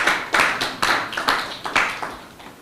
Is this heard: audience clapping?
yes